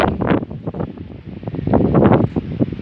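Gusty wind buffets the microphone outdoors by a swimming pool, a rumbling, uneven roar that swells and fades in rapid bursts.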